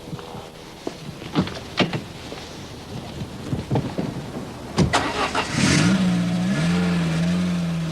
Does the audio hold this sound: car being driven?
yes